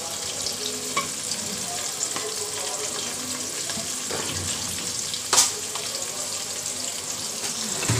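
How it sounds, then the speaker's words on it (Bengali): Polao rice toasting in oil in a pan gives a steady, close sizzle throughout, with a brief louder scrape of stirring about two-thirds of the way through. "আমি পোলাও চালটা ভালো করে ভেজে নিচ্ছি"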